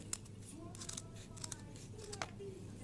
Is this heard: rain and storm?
no